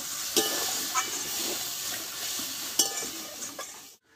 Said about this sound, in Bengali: এবার আমি এতে একটু জল দিয়ে দেবো